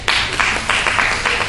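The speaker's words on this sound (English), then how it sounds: "A round of applause." An audience at a graduation career-prospects talk claps in a short, brisk burst of applause lasting only a moment, fairly loud and close.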